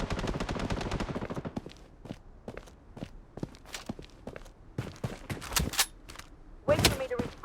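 Gunfire in the Blood Strike shooter game: a fast burst of automatic fire at the start, then scattered single and short bursts of shots, some sharp and loud, others fainter, mixed with footstep sounds.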